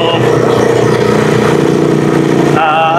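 The engine of a motorcycle trike climbs a steep, muddy road, droning loud and close with a rough, steady labour that shifts pitch near the end.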